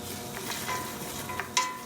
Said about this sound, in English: Got a little bit of a sizzle going, okay?